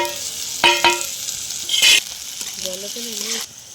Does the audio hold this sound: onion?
yes